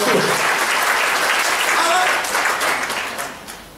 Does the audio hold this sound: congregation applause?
yes